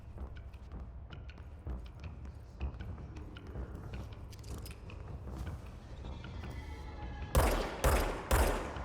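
Gunshots from a firearm in the video game Control, a run of sharp cracks amid ongoing combat noise, ending with three loud, evenly spaced shots close together.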